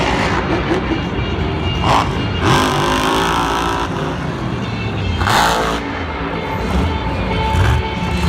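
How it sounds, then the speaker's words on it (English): A broken monster truck strains at full throttle during a Monster Jam event in Glendale in 2020, its engine roaring loudly and steadily with repeated surging revs over a broad background din. "Man, that truck is really straining, but he's still, I'm surprised that it's still running. He's just full throttling it."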